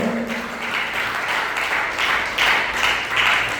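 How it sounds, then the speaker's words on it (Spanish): Church congregation clapping during a Spanish-language evangelical vigil service, a moderately loud burst of applause with uneven swells, some rhythmic clapping and faint voices mixed in. "denle un fuerte aplauso al Señor"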